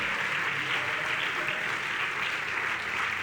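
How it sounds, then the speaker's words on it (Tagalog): A church congregation applauds at the close of a sermon, a broad, sustained crowd clapping at an even level throughout with no voices standing out. "Sige, dagdagan pa natin ang ating palakpak sa ating Panginoon"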